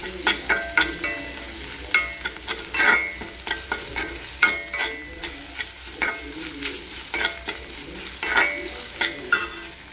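Onions with one or two spoonfuls of ginger-garlic paste fry in a pan for dahi bhindi, stirred with a spoon that makes repeated close scraping strokes in an irregular rhythm over a constant sizzle.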